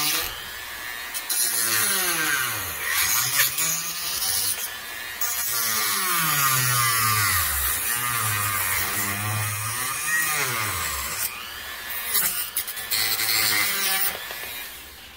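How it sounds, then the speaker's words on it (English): A Dremel rotary tool cutting the plastic prongs off a GoPro housing, a loud close whine that rises and falls in pitch as it bites and slows, with short pauses between cuts. "using a Dremel or some other kind of hacksaw or cutting implement, go ahead and remove the three prongs here"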